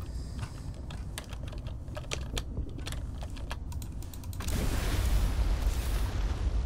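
In Subnautica Below Zero, a knife cuts at a table coral underwater: a run of quick, sharp clicking taps, then a louder, steady wash of underwater ambience takes over.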